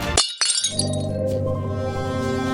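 A glass bottle is smashed with a sledgehammer: a sharp, loud crash, then a long ringing, tinkling spray of falling shards, heard close up.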